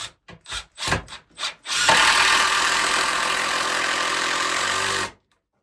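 Power drill driving screws into wood on a mini deck chicken coop build: a few short loud whirring bursts, then one sustained, loud drive lasting about three seconds before stopping abruptly.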